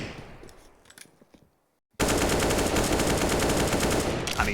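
Counter-Strike gunfire on the Ancient map: after a quiet stretch with a few scattered shots, a dense, loud burst of continuous automatic spraying erupts and keeps going to the end.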